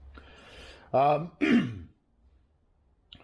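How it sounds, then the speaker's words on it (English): A person clears their throat and coughs twice in quick succession, close and fairly loud, followed by quiet, in a workshop during restoration of a 1971 Range Rover. "Big cough there"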